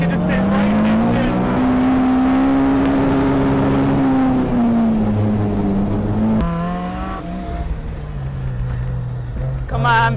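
A K24-engined race car accelerates hard while racing a supercharged Miata, its engine note climbing and falling in long pulls, then dropping after a sharp shift before rising again, loud and close with wind noise.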